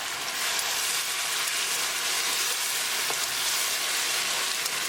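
Tomato and green chili puree sizzles in a pan of browned-onion tadka for a malai paneer curry, giving a dense, continuous hiss that stays close and steady with no talking.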